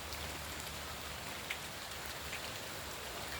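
Rain falls on a machine at night, producing an even, soft drumming hiss with occasional distinct drops striking the surface.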